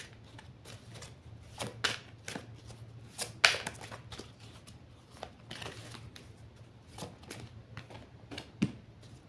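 A deck of cards is shuffled and cut by hand in a quiet room, with soft riffling bursts and scattered sharp snaps and taps spread across several seconds, no talking.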